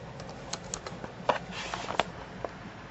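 A computer keyboard being typed on to enter commands while jailbreaking an iPod Touch 2nd generation, with light, sparse clicking keystrokes that are quiet and close, with no speech.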